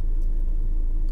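A VW Group car engine runs during a diesel particulate filter regeneration procedure with brake and throttle pressed together, giving a loud, steady, close low rumble with no speech.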